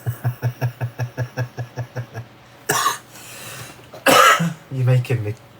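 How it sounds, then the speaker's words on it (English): Coughing and throat clearing from hay fever while crafting a glittery easel card: a rapid rhythmic series of short choking hacks, then a few harsher coughs and throat-clearing bursts, close and fairly loud. "choke and cough and sneeze."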